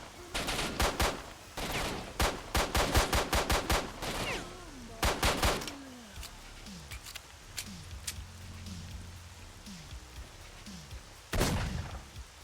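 Rifle fire in a video game rings out as a rapid series of sharp, loud shots, clustered early on with a few more scattered later, alongside quieter game effects.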